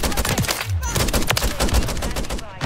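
Rapid automatic gunfire from the JAK Jawbreaker kit weapon in the video game Modern Warfare 3, loud and close in dense bursts that fill the clip, with brief game voice sounds mixed in.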